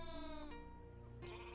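Sheep bleat from a video game's sheep-herding level in Rain on Your Parade: one long wavering bleat, then a second starting near the end, loud and close over a steady game backdrop.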